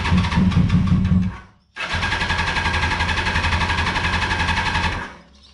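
A Yamaha R1 motorcycle fitted with an eBay exhaust cranks and tries to start, the starter churning loudly in a steady rapid rhythm, briefly cutting out, then grinding on for several seconds before fading.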